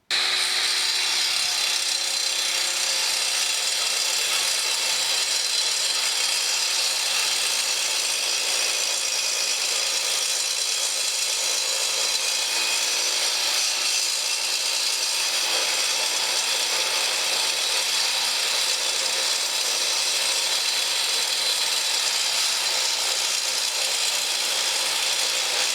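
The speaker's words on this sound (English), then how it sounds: "I'm going to cut a piece of steel reinforced concrete with it" An Evolution disc cutter grinds through a steel-reinforced concrete lintel outdoors in a garden, a loud, continuous, harsh abrasive roar that holds steady for the whole stretch with no pauses or talking.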